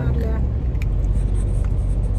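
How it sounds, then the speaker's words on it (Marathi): Car cabin with a steady low engine and road rumble as the vehicle gathers speed, loud and continuous throughout, with faint voices underneath. "गाडीचा स्पीड वाढलाय आता."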